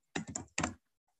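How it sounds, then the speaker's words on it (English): Someone typing a name on a computer keyboard, a quick cluster of close, crisp key presses followed by a short pause and a final few taps, alone in a quiet room. "I am just typing in my name"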